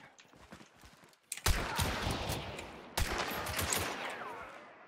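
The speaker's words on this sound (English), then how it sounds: "I'm shooting one on the right." Gunfire in the first-person shooter Hunt: Showdown: two loud, sharp shots each followed by a long rumbling echo tail, heard alone after a quieter stretch of rustling movement.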